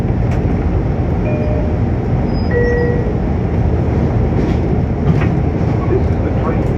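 A Long Island Rail Road train runs from Penn Station toward Ronkonkoma, recorded from behind the cab, with a loud, steady roar of wheels and motors and faint squeals throughout.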